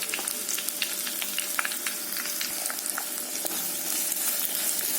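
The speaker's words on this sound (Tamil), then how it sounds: "வெங்காயம் நல்லா வதங்கட்டும்." Chopped onion and green chilli frying in hot oil with cumin, fennel and bay leaf for a mushroom curry, a bright continuous sizzle with occasional crackles and stirring, close and steady.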